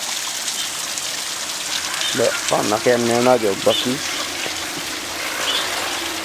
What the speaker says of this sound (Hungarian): Ez itt az első vízesés